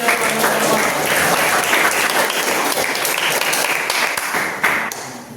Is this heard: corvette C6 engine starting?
no